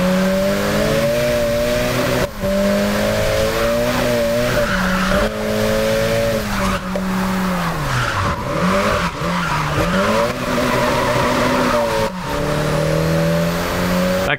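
A car in a racing video game driving along narrow winding mountain roads, its engine droning loudly and steadily as it rises and dips in pitch through the bends, with tire squeal and skidding through the turns.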